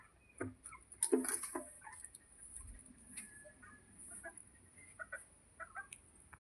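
Chickens clucking in short, scattered bursts near a hot household, with a louder flurry early on and softer clucks later, over quiet background.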